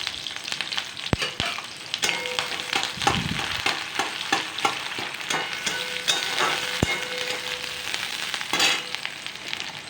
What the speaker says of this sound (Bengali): এবার পেঁয়াজগুলিকে ভালো করে লাল লাল করে ভেজে নেব বাদামি আকারে।